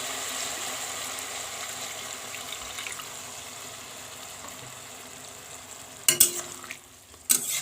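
Water goes into a spiced banana flower curry sizzling in a pan, giving a steady frying hiss with sharp, loud splashing bursts near the end.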